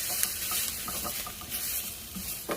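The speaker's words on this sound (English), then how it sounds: "with the residual heat, I think the garlic will saute just fine" Garlic sautés in a pan on residual heat, a soft steady sizzle broken by the scrape and clack of stirring, close and without talk.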